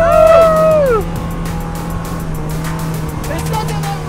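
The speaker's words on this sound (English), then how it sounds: "It doesn't feel real, but I'm driving a car in a city" A car in a video game drives and drifts across water, its engine droning steadily while tires squeal in a falling sweep at the start. Loud and close throughout.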